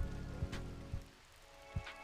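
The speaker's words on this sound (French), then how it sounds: "Avec le bruit de la pluie là dehors." Rain falls outside in a retro paranormal horror video game, a faint, steady patter with a few soft low thumps, heard without talk.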